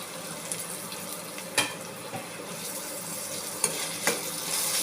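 Capsicum and tomato fry in oil, a close, gentle sizzle with a few sharp clicks and scrapes of stirring, rising slightly at the end, with no voices.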